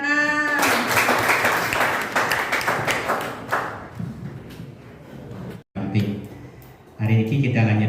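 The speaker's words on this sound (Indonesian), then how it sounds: "Mantap, tepuk tangan." Students at a vocational school safety-awareness session clap together in a loud, busy burst that fades over a few seconds, with voices and talk mixed in and speech resuming afterward.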